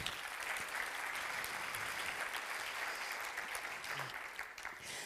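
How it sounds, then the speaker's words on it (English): An event audience gives a continuous round of applause for the organizing team, a thick, even wash of clapping that holds steady and softens slightly near the end, heard at a moderate distance. "let's give a hand clap for them real quick"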